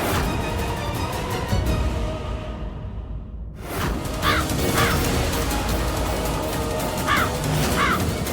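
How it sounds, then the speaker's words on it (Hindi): A crow caws repeatedly late at night, the harsh calls spaced out over a steady background hiss, with a brief whooshing swell and a sudden drop to near silence partway through. "इतना देर रात के कौवा कहाँ से आ गई?"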